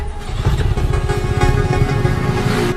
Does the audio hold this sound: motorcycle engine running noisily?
yes